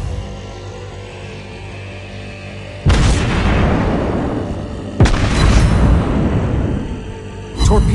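Two heavy booming explosions from dive bomber attacks in World of Warships Blitz, each a sudden loud blast with a long rumbling decay, arriving about two seconds apart, followed by the onset of a third blast at the end.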